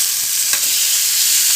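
Grill chicken frying on a tawa pan gives a steady, loud, close sizzle and hiss through a brief moment, with one small bump as a piece is turned, and no voices.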